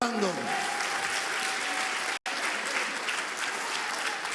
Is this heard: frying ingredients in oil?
no